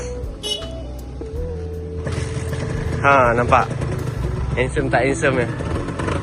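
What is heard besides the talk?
engine started and running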